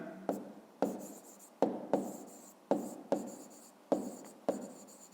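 Handwriting a math exercise: a pen or pencil scratches across paper in short strokes, about nine quick scrapes each with a sharp start and fading tail, close and quiet with no talking.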